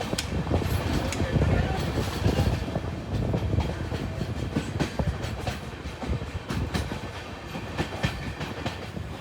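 Bharat Gaurav tourist train rolling past Dum Dum station, a steady loud rumble with rhythmic clickety-clack of wheels over rail joints throughout, heard from inside the carriage, with some voices underneath.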